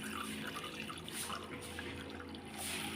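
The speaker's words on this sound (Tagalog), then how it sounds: "Let's add some water." Water is poured into a cooking pot for banaba leaf tea, giving a steady, close splashing trickle that runs the whole time with no talking.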